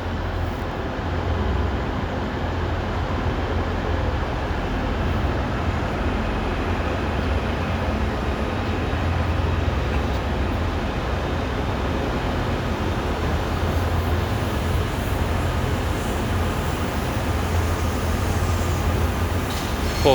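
A train departs Liverpool Lime Street on the West Coast Main Line with a loud, steady rolling rumble that runs unbroken and close throughout.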